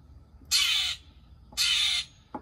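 A crow caws twice, loud and close, each harsh call about half a second long with a short pause between, plus a faint extra sound at the end.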